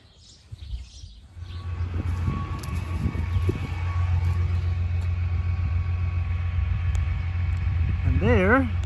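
A vehicle engine runs on a large-scale dandelion spraying job on a cattle farm, a steady close low rumble holding throughout with a brief warbling siren-like tone near the end.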